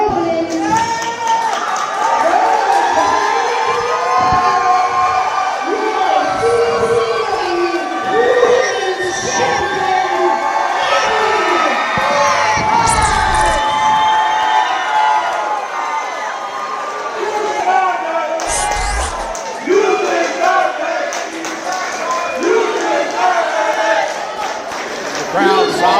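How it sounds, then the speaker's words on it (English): A crowd at an independent wrestling show in Miami cheers and shouts loudly throughout, with scattered yells and a brief burst of noise, while a commentator talks over it. "The crowd solidly behind Blackheart here."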